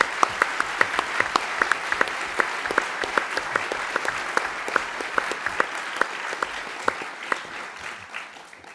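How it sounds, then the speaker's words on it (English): An audience at a public lecture on environmental economics in Sydney claps enthusiastically for the speaker and panel, a continuous, lively burst of applause with crisp individual claps standing out, fading slightly toward the end. "So a big applause to Pavan and the panel."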